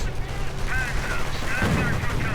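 Rapid bursts of machine gun fire from an emplacement in a 1v1 real-time strategy battle, crackling repeatedly over busy game noise, with a commentator's voice faintly underneath.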